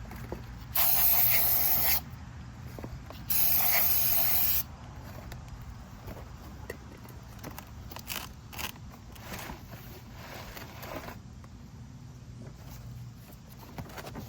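Brake cleaner sprayed onto a Lamborghini ECO-3 burner in a Fortador Pro Line: two loud, close hissing bursts of about a second each, separated by a short pause, followed by quieter handling noise.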